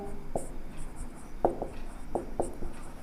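Numbers written by hand on a board during a maths lesson, with several distinct pen or chalk strokes in uneven bursts over a steady low room hum.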